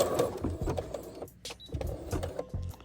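A sewing machine backstitches the end of a seam on a faux fur headband, its motor running in short bursts with rhythmic needle clatter, close and fairly quiet.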